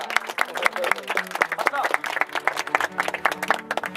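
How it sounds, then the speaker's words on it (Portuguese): A crowd claps rapidly at a Folia de Reis gathering of a Santos Reis company, sharp hand claps running under singing and loud voices nearby. "Eu peço uma salva de palmas para a saída de amanhã da Companhia dos Prudentes"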